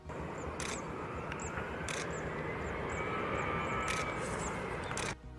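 Airplane engines roar steadily throughout as two planes come dangerously close during a landing, a continuous loud drone with a faint rising whine, ending abruptly.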